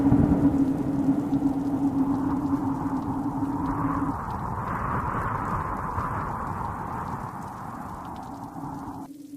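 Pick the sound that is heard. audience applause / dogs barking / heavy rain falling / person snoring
heavy rain falling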